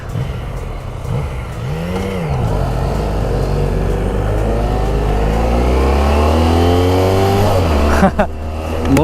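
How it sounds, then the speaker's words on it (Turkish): Yamaha MT-09 motorcycle engine accelerating on a city ride, its rising pitch climbing steadily through the gears as revs build, loud and close under light wind noise. "Gaza bastığımda bir hızlanması var ama böyle yavaş yavaş geliyor güç."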